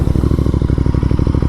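A Royal Enfield GT 650 motorcycle accelerates on a highway, its engine giving a loud, steady rhythmic thrum of rapid firing pulses up close, with clattering mechanical texture and no talk.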